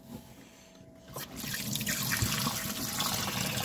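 Water trickles and pours into the small tank of a VEVOR ultrasonic cleaner, a faint quiet start followed by a steady close splashing fill.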